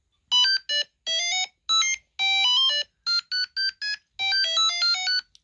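A Game & Watch Super Mario handheld plays its star power-up melody, a bright choppy run of short electronic beeps in quick bursts and stepped pitches, clear and isolated.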